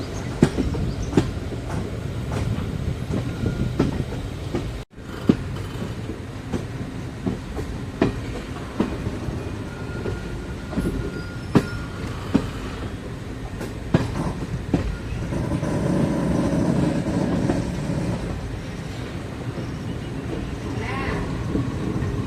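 Chemmozhi Express passenger train running from Coimbatore to Mannargudi at sunrise, heard from on board as a continuous rolling rumble with repeated clickety-clack wheel beats on the rails, with brief talk in the background.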